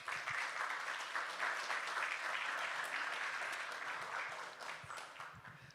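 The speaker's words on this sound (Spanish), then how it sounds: "Por favor, un aplauso para ella." Steady audience applause at a Latin American panel discussion, a dense wash of many hands clapping at moderate distance that holds evenly and then fades slightly near the end.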